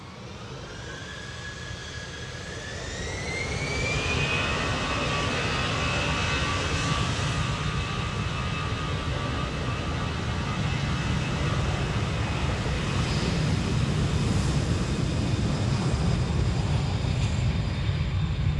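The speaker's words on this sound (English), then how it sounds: "Behind the Pegasus is the KLM Dreamliner, and he will be going to Portland" A brand-new KLM Boeing 787 Dreamliner departs Amsterdam Schiphol on a windy day, its jet roar swelling over the first few seconds with a rising engine whine, then holding loud and steady.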